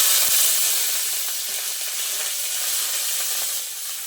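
Mustard seeds, dried red chili, bori lentil dumplings and curry leaves frying in hot oil for a Bengali bottle-gourd ghonto, a steady close crackling sizzle that holds evenly throughout with no voices.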